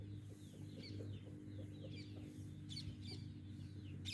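Asil hen clucking in a farm setting, a few soft, brief calls over a steady low hum of background noise.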